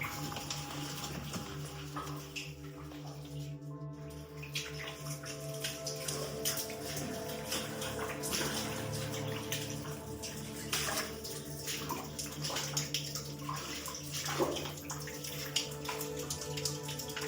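Water trickling and dripping inside an old abandoned Derbyshire mine, an irregular wet patter echoing in the enclosed space, with faint movement noises and occasional quiet voices.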